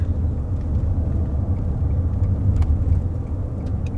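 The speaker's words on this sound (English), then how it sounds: "trash truck." A garbage truck rumbles low and steady close by, its engine drone filling the background without a break.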